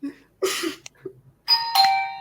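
Electronic doorbell ringing twice, two bright chime tones with a short gap between, loud and close with nothing else heard.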